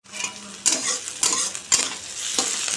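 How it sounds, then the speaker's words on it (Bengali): Nigella seeds and dried red chilies frying in hot oil in a pan, a close hissing sizzle punctuated by several sharp scraping stirs. "কালো জিরে তোমার শুকনো লঙ্কা দিয়েছি, দিয়ে এটা একটু ভাজা ভাজা টাইপের করব"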